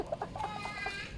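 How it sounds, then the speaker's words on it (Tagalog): A chicken clucking in short, bright bursts, fairly close, with a steady background hum underneath. "Ito, yung manok na ginaya."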